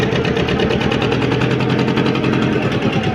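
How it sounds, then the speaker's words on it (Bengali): A motorboat engine chugging at sea, loud and close with a fast steady knocking rhythm that runs unbroken throughout. "এ ভটভটি চালাচ্ছে"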